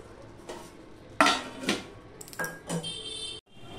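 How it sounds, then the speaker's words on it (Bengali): A metal lid goes onto a pot of vegetarian okra and tomato curry, a few clanks and scrapes with one sharp clatter followed by a ringing settle, close and alone. "এবার আমি ঢাকা দিয়ে দিলাম।"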